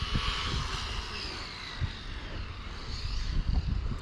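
A Maverick Strada RC car with a brushless 5000KV motor whines at high pitch, rising and falling as it races around a track, fairly close and loud with no talking.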